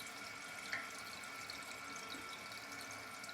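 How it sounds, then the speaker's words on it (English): Water from a toilet fill valve's refill tube pours into the overflow tube, a steady soft trickling hiss that runs evenly throughout, faint and without talk. "making sure that the refill tube dispenses water inside the overflow tube"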